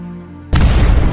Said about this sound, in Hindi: और तभी वहाँ पर एक जोर का धमाका होता है